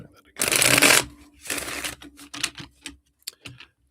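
Tarot cards being shuffled, two close riffling bursts followed by lighter flicks and taps as the deck is squared, sitting just under a speaking voice.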